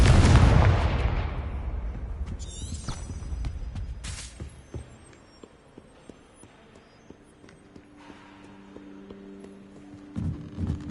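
A blasting spell in the video game Hogwarts Legacy bursts with a loud, booming explosion at the start, then a rumbling decay with scattered debris clatters and a low magical hum trailing off.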